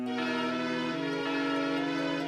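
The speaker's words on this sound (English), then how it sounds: "And the bells ring again" Wedding bells in the video game Harvest Moon: Island of Happiness ring out in a sustained, resonant peal with rich overtones, moderately loud and alone without any talk.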